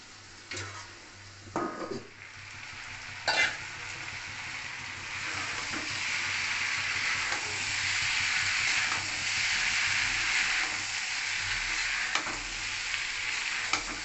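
Small mourola fish fry with potato, eggplant, cumin powder and chili powder as they are stirred in a pan. A steady sizzle runs underneath, with a few sharp scrapes and clinks of the spoon near the start.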